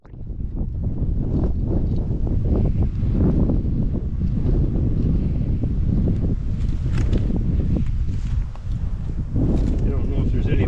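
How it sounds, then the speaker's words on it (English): Strong wind buffets the microphone in a steady low roar, with gusts thumping and rumbling throughout, briefly easing near the end before surging again; heavy outdoor wind on a trapping outing. "it's so windy today"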